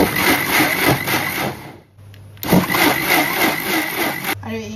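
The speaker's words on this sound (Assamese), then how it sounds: "এয়া মিক্সাৰ গ্ৰাইণ্ডাৰত গোটেইখিনি একেবাৰতে মাৰি ল'লোঁ" A kitchen mixer grinder loudly whirs as it blends sugar and refined oil for an eggless banana cake batter, running in two bursts with a brief pause between them.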